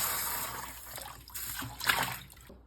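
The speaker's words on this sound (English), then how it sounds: "Rinse it out, and you can use some soapy water to clean it out, rinse it out." Water runs and splashes while a coffee maker part is rinsed out, a continuous close trickle with a brief louder splash near the end, no talk.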